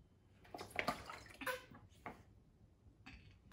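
Water gurgles and bubbles as air is blown back through the drinking tube of a hydration bladder, producing a few short wet bursts close up in quiet cold-weather surroundings, with no talking.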